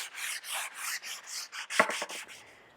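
A curved foam sanding block rubs back and forth across a hollowed wood plank, making close, quiet rasping strokes in an even rhythm of about ten passes.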